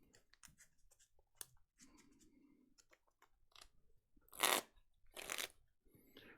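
Deck of Pokémon trading cards shuffled by hand: soft irregular clicks and riffles, then two louder bursts of cards riffling together near the end, close and quiet, with no talking.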